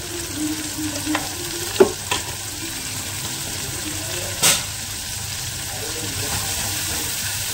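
Asafoetida and turmeric go into a mackerel curry pan, where they sizzle steadily up close, broken by a few sharp clinks and stirring knocks against the pan.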